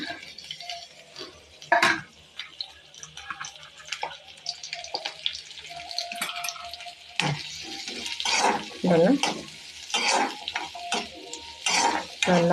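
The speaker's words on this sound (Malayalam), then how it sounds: "ഒരു സവാള ചിലക്കരിവേപ്പില പച്ചമുളക് നമുക്കിത് എണ്ണയിലിട്ടങ്ങോട്ട് ഇട്ട് കൊടുക്കാം" Onion, curry leaves and green chilies fry in oil with an intermittent sizzle and crackle, under clattering utensils, stirring and splashing water.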